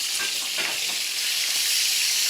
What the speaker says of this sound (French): Alors ensuite, on va retourner les magrets.